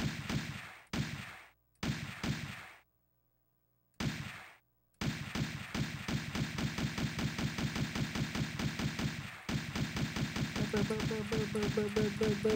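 Gunfire from Virtua Cop on the Sega Saturn, heard first as a few separate shots with gaps between them. It then becomes a long, fast, evenly spaced run of shots that keeps going to the end.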